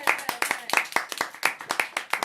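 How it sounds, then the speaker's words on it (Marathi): A small group clapping at a Ganpati awards show, with brisk, close, uneven handclaps in a quick steady rhythm and faint voices underneath. "हो, टाळ्या."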